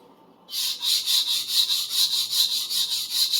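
Japanese sujihiki slicing knife edge being sharpened on a stone, a close, steady series of rhythmic scraping strokes starting abruptly after a quiet moment and repeating evenly about twice a second.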